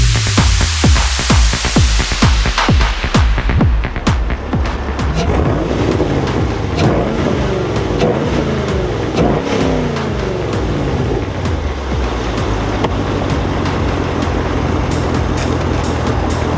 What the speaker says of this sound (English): we'll let you hear under the hood and the exhaust on a vehicle